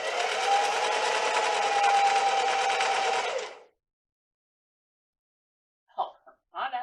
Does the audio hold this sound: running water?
no